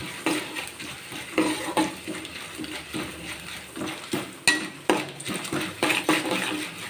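Chana dal and curry leaves roast in a pan while being stirred, with repeated metallic scrapes and clinks of the spoon against the pan over a faint, steady sizzle.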